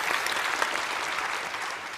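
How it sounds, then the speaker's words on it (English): Audience applause at a panel discussion, a steady wash of clapping from a seated crowd that holds at an even level throughout without any voices. "That deserves a round of applause."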